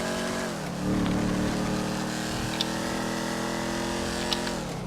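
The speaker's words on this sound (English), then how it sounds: "Fun little muscle car. Yeah, the Declasse Vigero." The V8 engine of a Declasse Vigero muscle car in GTA 5 Online drones steadily and loudly, with a brief rise in revs early on, then settles into a sustained, even rumble.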